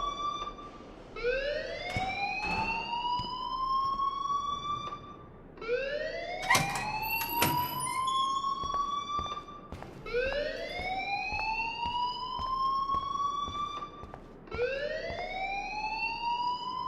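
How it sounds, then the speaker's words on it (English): Fire alarm in the video game Life is Strange, a siren-like wail that sweeps upward in four repeated cycles, steady and moderately loud, with no voices. "please turn off that alarm since that's your job."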